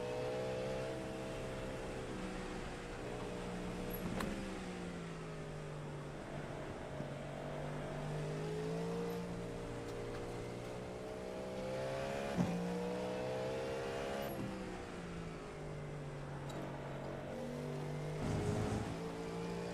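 A loud, steady race car engine in the iRacing sim at Le Mans roars throughout, its pitch rising and falling as it revs through gears, with occasional sharp bumps and scrapes.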